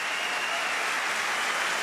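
A table tennis crowd at a men's World Cup bronze medal match applauds after a rally, a dense, steady wash of clapping throughout with no voices.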